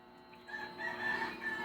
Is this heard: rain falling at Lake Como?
no